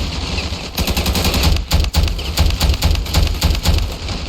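Machine gun fire in the video game Ravenfield, during a police gang raid on a hospital: a loud burst of rapid, evenly spaced shots rattles on for several seconds, close and continuous, with no talking.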